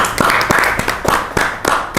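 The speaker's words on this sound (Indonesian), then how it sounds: "tepuk tangan dulu dong" A few people clap in quick, uneven bursts for a couple of seconds, short applause close by.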